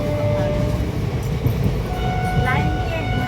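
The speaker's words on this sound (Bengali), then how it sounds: "ট্রেন খুব ভালো যাচ্ছে" Passenger train rolling through the Adra area in India, a steady broadband rumble of wheels and carriage with faint tonal whines and a brief horn-like toot, people chatting aboard under the running noise.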